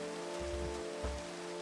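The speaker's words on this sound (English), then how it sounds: "I really don't like the rain in Minecraft" Rain falling in Minecraft, a steady hiss of rain on surfaces with a constant tonal hum underneath and a few soft low thuds, continuous and fairly close, with no voices.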